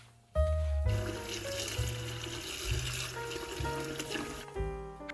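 Cut napa cabbage pieces being rinsed in a bowl of water in a home kitchen, a continuous close splash of running water lasting several seconds with no talking.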